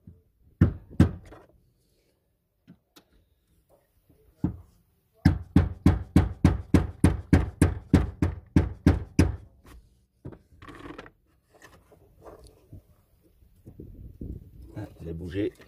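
A plastic diesel lift pump is knocked to loosen it, a run of about a dozen sharp, evenly spaced raps at close range, with a few scattered taps before and after and someone talking between them.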